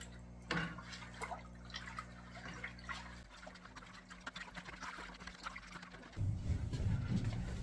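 Water being stirred in a hydroponic Kratky-method container, with soft liquid sloshing and trickling that turns louder and heavier near the end, recorded close up.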